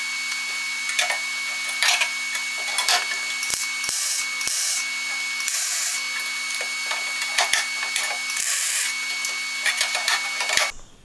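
An infill panel being stitch welded onto a rusty old Ford 100E car body: a steady crackling, hissing weld buzz with a few sharp clicks between stitches, continuous and close.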